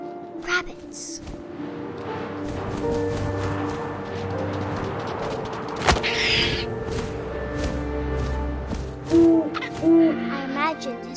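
An owl hoots in the video game What Remains of Edith Finch, two short clear hoots near the end over a steady wind and ambient bed, with rustling earlier.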